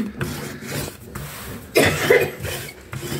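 A person coughs a couple of times nearby, short harsh bursts over low background noise.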